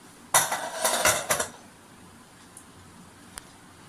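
A spoon scrapes and clatters against a metal pot in a quick burst of stirring paneer biryani rice, then the kitchen goes quiet except for a couple of faint clicks.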